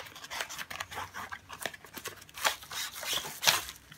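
Scissors snip through branded seal tags on a package holding a Xiaomi Mi Power Strip, giving several short, sharp clicks and rustles of packaging at close range, with no talking.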